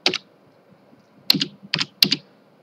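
Keystrokes on a computer keyboard while an IP address is typed in: short bursts of close, crisp clicks, one quick cluster at the start and then three rapid groups a little later, with near silence between them.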